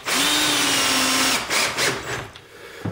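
A power drill with a T25 bit drives a self-tapping screw into a door, a close, loud whine that holds steady and then breaks into a few short bursts as the screw seats.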